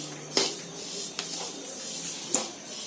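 Sesame seeds being stirred in a pan for Bihu pitha, with a few sharp clinks of a utensil against the pan over a soft continuous rustle.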